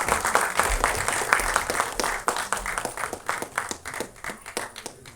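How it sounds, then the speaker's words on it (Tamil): Dense audience applause at a Tamil album song screening festival greets singers called to the stage, a steady wash of many hands clapping loudly throughout. "பலத்த கைத்தட்டல் கொடுக்கலாம்."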